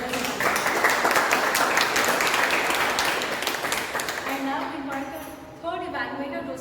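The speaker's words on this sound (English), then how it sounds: "a big round of applause to both the speakers" Audience applause for two speakers at a Toastmasters meeting: dense, steady clapping that holds at full strength for several seconds, then thins and fades as a voice begins over it.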